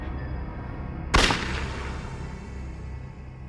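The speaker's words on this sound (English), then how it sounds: "her roommate, Dale Okazaki, heard the gunshot." A single sharp gunshot from a .22 cracks out once, loud and close, then trails off into a lingering echoey decay over low background noise in a crime reenactment.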